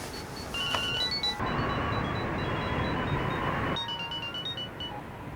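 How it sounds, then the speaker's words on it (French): A mobile phone rings with a repeating electronic melody, quiet and slightly distant, fading in and out under a steady background wash with brief rustling. "Ton téléphone sonne."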